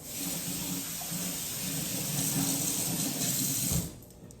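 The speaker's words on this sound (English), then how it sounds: "I'm gonna wash my hands really quickly." Tap water runs steadily from a kitchen faucet as hands are washed after handling raw turkey, a continuous close rush that cuts off abruptly near the end.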